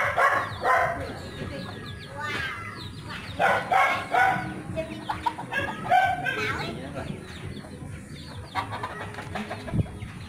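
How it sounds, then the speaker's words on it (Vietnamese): Crossbred domestic and jungle chickens cluck and squawk nearby in a Vietnamese farmyard, with a dog barking, a rooster crowing and someone talking over the birds. "đây là gà nhà lai gà rừng"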